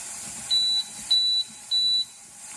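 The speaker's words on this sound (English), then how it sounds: "it's going to go to E0 and have a very quiet alarm" Three evenly spaced high electronic beeps from a pressure canner's quiet alarm, each lasting about a quarter second, soft and thin over a faint room hum.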